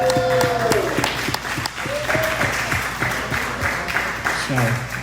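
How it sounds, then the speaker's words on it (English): A community crowd at a West Genesee football kickoff special applauds Colin McAvan and Joe Corley, with brisk clapping running throughout while a voice talks and a few tonal sweeps sound over it. "I want to give an applause to them"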